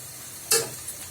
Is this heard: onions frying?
yes